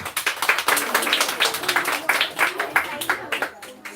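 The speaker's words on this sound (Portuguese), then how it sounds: "Vamos aplaudir." A congregation at a Baptist church Bible school lesson breaks into applause, a dense run of sharp hand claps of moderate loudness that continues evenly for a few seconds.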